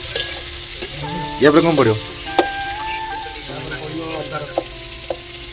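Onions frying in a pan, sizzling steadily while being stirred, with scraping bursts under a person talking.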